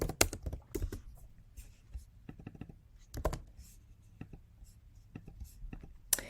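A word being handwritten on paper, heard as a few close scratchy pen strokes in short bursts with pauses between them, fairly faint and with no talking.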